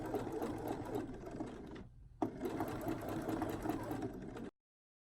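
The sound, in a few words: sewing machine edge stitching a pinafore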